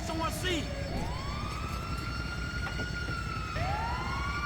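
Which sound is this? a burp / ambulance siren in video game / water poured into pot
ambulance siren in video game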